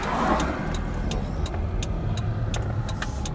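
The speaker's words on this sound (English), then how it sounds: "And there's a car coming, so I can't cross." A car approaches and passes on a road, a steady mid-level engine and tyre rumble with a few faint clicks on top, heard from the roadside with no talk.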